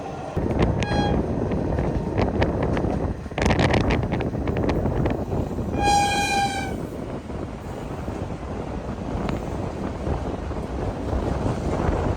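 Assam Express passenger train running between Lalgarh and Dibrugarh, a loud continuous rumble with strong wind buffeting and brief high squealing tones, heard from close by without talk.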